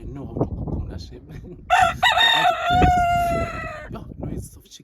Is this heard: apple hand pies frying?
no